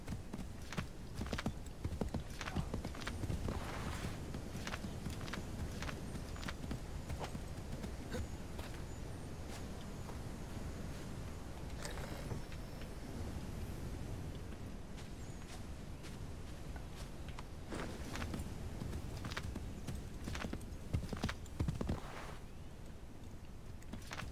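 Horse hooves clip-clop steadily in Assassin's Creed III Remastered, a continuous run of close, even hoof strikes over a soft game ambience, with no talking.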